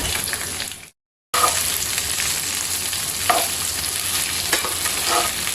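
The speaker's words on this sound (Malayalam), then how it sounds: "ഇതിപ്പോൾ ഓൾമോസ്റ്റ് ഫ്രൈ ആയി വരുന്നു. അപ്പോൾ അതിനകത്തോട്ട് കറി ലീവ്സോട് ആഡ് ചെയ്യാണ്." Chicken frying in a little oil with curry leaves added, a loud, steady close-up sizzle and crackle with a brief dropout near the start and occasional stirring scrapes.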